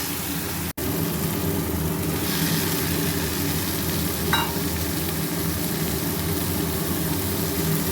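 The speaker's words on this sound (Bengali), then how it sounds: "হলুদ দিয়ে এটা ভালো করে কষাই এটাকে" Tomato masala with turmeric, coriander powder and Kashmiri chili sautés in a pan, giving a steady close sizzle with faint stirring scrapes throughout and a short dropout near the start; no one talks.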